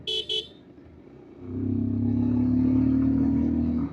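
A quick double toot from the dual-tone horn of a 2026 Bajaj Pulsar 150 motorcycle opens the moment. A low, steady engine drone then swells and carries on alone.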